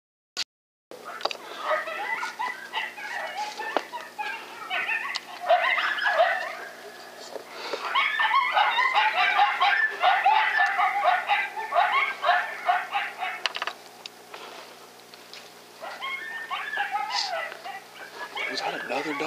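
Coyote yips, whimpers and yelps sound in a thermal-imaging night hunt, breaking into repeated high-pitched bursts for most of the stretch, fairly close and loud, with brief quieter gaps between the volleys.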